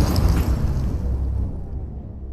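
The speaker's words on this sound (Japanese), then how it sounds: "爆発したぞ" A broad, loud low-frequency explosion in the VR game Time Stall, a sustained rumbling boom that decays slowly over about two seconds with no talk over it.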